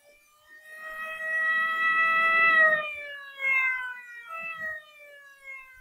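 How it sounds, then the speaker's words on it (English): A loud, wailing siren from the San Francisco Ferry Building sounding eight o'clock, with a long steady tone that then breaks into shorter wavering blasts, ringing out alone. "The next morning, just as the ferry building siren was announcing 8 o'clock to downtown San Francisco, I got Rembrandt on the phone."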